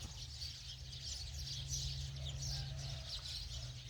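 Faint bird chirps and tweets repeat in a distant outdoor rice field over the steady low engine hum of a rice-harvesting machine.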